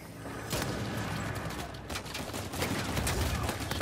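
Shotgun fire in Uncharted 4 multiplayer, several moderately loud blasts amid continuous combat noise, with rough mechanical clatter between the shots.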